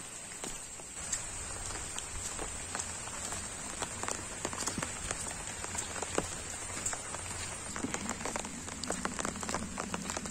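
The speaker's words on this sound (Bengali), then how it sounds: "বৃষ্টি হচ্ছে" Rain falls on a rooftop terrace, a dense continuous patter of drops striking hard surfaces with scattered sharper taps, steady and fairly close throughout.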